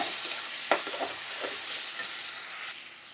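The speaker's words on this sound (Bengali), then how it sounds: "টমেটোর পেস্ট করে থেকে যতক্ষণ না কাঁচা ভাবটা চলে যাচ্ছে ততক্ষণ পর্যন্ত আমি ভালো করে কষিয়ে নেব" Tomato paste frying in oil in a pan, a close, steady sizzle with a few clicks and scrapes of the spoon stirring through it, no voices.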